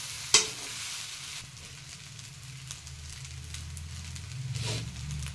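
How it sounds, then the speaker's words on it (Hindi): Fried rice cooks in a pan with a soft, even sizzle, a sharp spoon clank at the start and gentle scraping and stirring bursts, close and fairly quiet. "फिर इसे मिक्स करके फिर से इसे 5 मिनट के लिए पकाएंगे"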